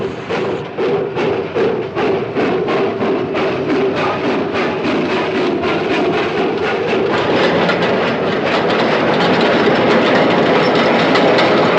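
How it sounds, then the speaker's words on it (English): A steam locomotive running on rails in a 1956 film chase, loud and close, with a regular clickety-clack of wheels over rail joints and a heavy rumbling roar that builds steadily, with no talking. "Campbell, nobody's going to stop this train until we reach the first Chickamauga Bridge."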